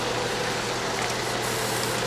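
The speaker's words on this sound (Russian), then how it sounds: "Стейр трактор." A Steyr tractor's engine runs at a steady idle nearby, an even low rumble under broad noise with no change in pace and no voices.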